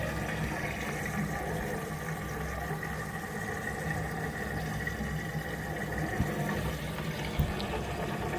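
An LG F2V5GG9T washing machine on a hand-wash cycle for wool hums steadily as water rushes in to fill the drum, a continuous close rumble with no voices.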